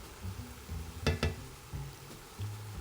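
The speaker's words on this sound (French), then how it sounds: "Maintenant que notre viande a commencé à colorer, on va pouvoir l'assaisonner" Beef browning in a pan for lasagne, a low sizzle under two sharp quick knocks of a utensil against the pan, followed by quieter stirring scrapes.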